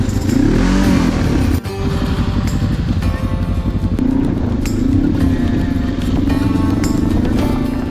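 A Ducati Desert X motorcycle engine rumbles close by, revving up and down in surges with a brief cut partway through.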